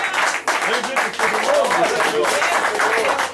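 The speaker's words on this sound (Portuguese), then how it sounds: "dá um glória a Deus, uma salva de palmas para Jesus." Church congregation during a Portuguese-language sermon breaking into applause, bursts of clapping mixed with loud voices and shouted praise over the whole stretch.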